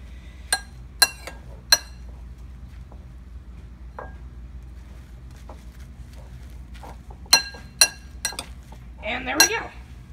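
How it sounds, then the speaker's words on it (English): Whipped cream being stirred into pancake cereal in a bowl, heard as sharp spoon clinks against the bowl in scattered bursts amid quiet scraping. "now you're gonna want to stir it up so it all gets mixed around"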